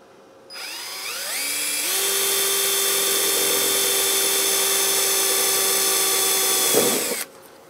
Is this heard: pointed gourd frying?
no